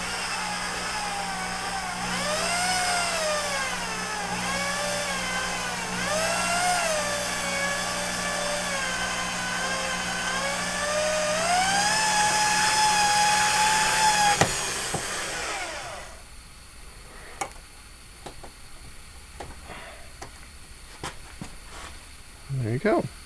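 A power trimmer cuts a 30-06 brass case being reformed to 300 Savage, giving a steady, loud motorized whine with a wavering pitch that stops abruptly, followed by faint clicks and handling noises.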